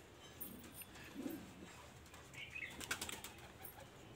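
Pigeons coo softly in a Kolkata loft, and a brief flutter of wings and light rustling mark the middle of the clip, with no talking.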